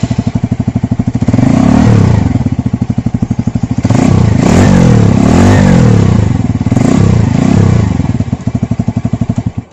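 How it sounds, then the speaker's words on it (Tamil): The exhaust of a 2021 TVS Radeon BS6 motorcycle runs loud and close, a rhythmic thumping idle that rises into throaty revs twice before settling back to a pulsing beat. "ஸோ இப்போ நம்ம எக்ஸாஸ்ட் வந்து ஆன் பண்ணி பார்ப்போம்."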